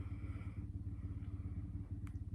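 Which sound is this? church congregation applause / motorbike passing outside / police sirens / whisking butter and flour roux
motorbike passing outside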